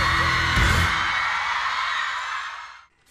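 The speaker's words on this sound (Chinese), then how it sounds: "掌声尖叫。" An audience at a televised talent-competition stage show cheers and screams loudly in a dense, continuous roar of crowd noise that holds steady and then drops away sharply at the end.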